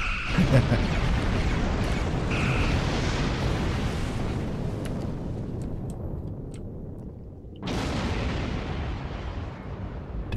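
Torpedo explosions in the Star Trek Online video game, a loud continuous barrage of booming blasts and rumble that briefly drops out near the end, then resumes with a sharp new hit.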